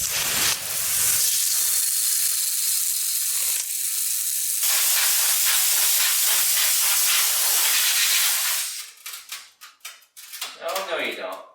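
A hose sprays water in a loud, steady hissing rush, rinsing rust remover off a coil spring and parts of an abandoned Tri-Five Chevy, then breaks into choppy bursts near the end.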